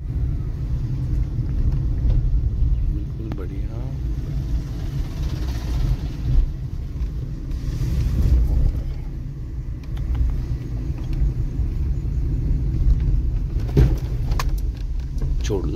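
A car driven by a first-time driver rumbles steadily from inside the cabin, a low engine and road drone with occasional bumps, while people talk over it.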